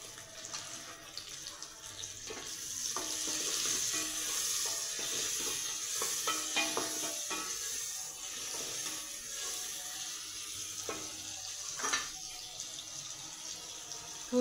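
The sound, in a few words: tomatoes sizzling while frying in oil for mutton biryani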